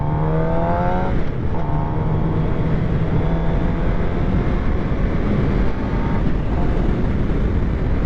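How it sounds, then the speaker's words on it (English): Engine of a 2023 Suzuki GSX-R750 sport motorcycle winding down through the gears, with loud continuous engine drone, descending harmonic tones and throttle blips at each downshift, close and steady under heavy wind noise, with no talking. "All right, let's slow her down. Oh yeah, beautiful, beautiful downshift."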